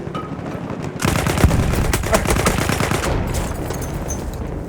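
Rapid automatic gunfire from the video game Battlefield 1 rattles in a loud, dense burst that starts after a moment and carries on for several seconds.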